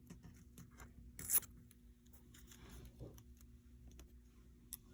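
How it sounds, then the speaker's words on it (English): Tape is pulled from a roll and pressed onto paper along a top line, heard as faint, close tearing and crinkling noises with small ticks and one brief louder rip in a quiet room. "we are going to put our tape on the top"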